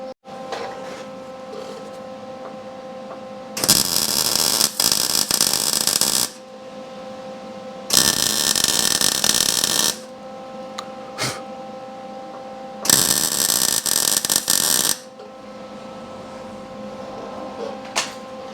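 Welding a part on a Yamaha Campus 60 YJ2 moped: three loud bursts of steady crackling buzz, each about two seconds long, separated by quiet pauses with a faint hum in the background.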